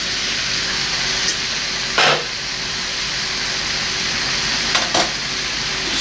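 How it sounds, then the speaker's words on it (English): Beef sizzling in a hot frying pan while braising, a loud steady close hiss with brief bursts of stirring scrapes. "at this point, we return our beef back to the pan"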